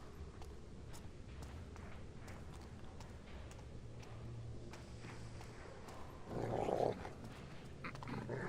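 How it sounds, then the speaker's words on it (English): Dogs in the stealth video game NuThief growl low and faintly beneath ambient game sounds, with a brief louder rough burst partway through. "Damn dogs."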